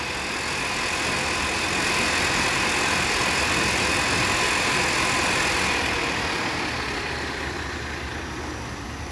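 TCI transmission spinning on a test dyno, a steady loud mechanical hum and whine that holds constant, then eases slightly toward the end.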